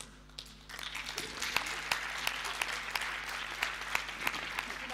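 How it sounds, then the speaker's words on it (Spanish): A seated audience at a talk on culture and media breaks into applause after a brief quiet start, sharp individual claps standing out within a sustained, moderately loud round. "Un aplauso para Lledó, ¿eh?"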